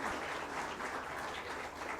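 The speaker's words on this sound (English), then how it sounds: "I request a huge round of applause at this joyous moment." Audience applause at a book release ceremony, a dense, sustained patter of many hands clapping together at moderate distance.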